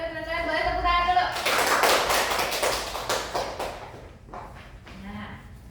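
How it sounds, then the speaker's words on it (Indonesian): Classroom applause breaks out after a brief voice, a dense burst of many hands clapping near and lively, then thinning into a few scattered claps and some talk as it fades. "Boleh tepuk tangan dulu."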